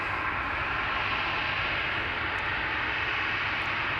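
An Embraer 195 E2 jet landing at Amsterdam Schiphol produces a continuous broad roar, steady and fairly loud throughout, like distant engine noise mixed with wind, without speech.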